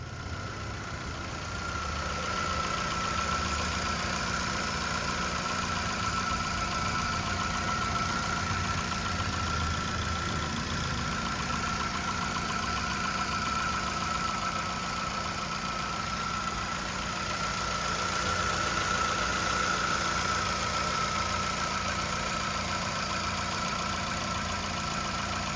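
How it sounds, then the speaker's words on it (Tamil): Petrol engine of a 2013 Chevrolet Sail UVA idling smoothly, a steady even hum with a faint high whine held for about twenty-five seconds, heard close with no talking. "இப்போ வண்டியோட இன்ஜினை ஸ்டார்ட் பண்ணி இன்ஜினோட நாய்ஸை ஒரிஜினலாக உங்களுக்கு அதே நாய்ஸோட காட்டுறேன்"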